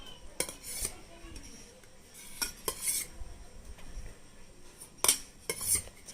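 A child feeding herself, a metal spoon clinking and scraping against a bowl in a series of sharp, close taps and scrapes over a quiet room.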